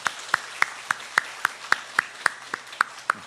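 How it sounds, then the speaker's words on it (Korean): Rhythmic single clapping during a Sunday church worship service in Sokcho, sharp evenly spaced claps about three per second, fairly close and alone without talk. "인사드릴 때 박수로 크게 격려해 주시기 바랍니다."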